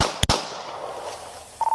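Two sharp gunshots ring out in quick succession at the start of the recording, loud and close. Near the end, a short electronic beep sounds.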